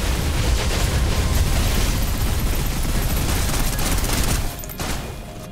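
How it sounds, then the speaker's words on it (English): Suppressive gunfire rattles nonstop in the PC game Snowbreak, a dense, loud volley of rapid shots layered with booming impacts that thins out near the end. "Suppressive fire."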